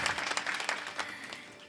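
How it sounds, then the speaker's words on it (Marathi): Applause from a kirtan audience, many hands clapping in a brief, fairly faint burst that fills the short moment without any talk. "वाजवा वाजवा एकदा जोरदार टाळ्या"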